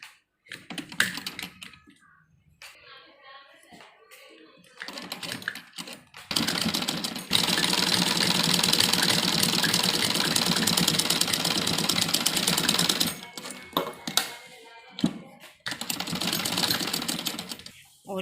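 Sewing machine stitching a folded salwar hem, with bursts of rapid mechanical needle clatter that run steadily for several seconds between quiet pauses, and someone speaking in the gaps.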